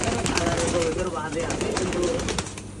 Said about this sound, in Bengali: এই যে এখানকার হলো 5-6টা কবুতর আছে।